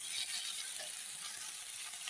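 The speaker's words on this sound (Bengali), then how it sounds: "আমি এখন ভেজে রাখা কপিগুলো দিই।" Fried cauliflower pieces go into a pan of well-cooked spiced masala, setting off a steady, close, loud sizzle and crackle of hot oil that holds evenly throughout, with no talking.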